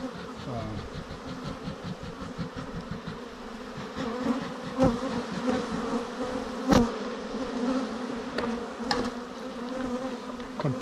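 Honey bees swarm around an opened beehive in an attack, their dense, continuous buzzing loud and close. Individual bees zip past the ear now and then.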